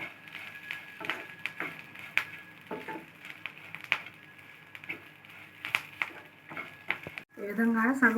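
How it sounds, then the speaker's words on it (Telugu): Drumstick leaves fry in a pan over a medium flame, giving a quiet sizzle broken by repeated scraping stirs of a spoon against the pan, with a brief louder rustle near the end. "స్టవ్ మీడియం ఫ్లేమ్లో పెట్టి వేయించుకోవాలి, అడుగు అంటకుండా"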